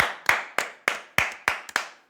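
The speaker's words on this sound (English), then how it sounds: "Let's clap it up for that, man." Slow, isolated hand claps in an interview setting, seven sharp, close claps spaced roughly a third of a second apart, each with a short decaying tail.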